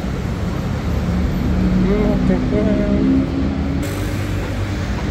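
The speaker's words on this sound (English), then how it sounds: "gonna catch a bus here." Rush-hour road traffic at a bus stop, a continuous near rumble of engines with a passing bus's low tonal whine rising and falling in the middle, while voices murmur underneath.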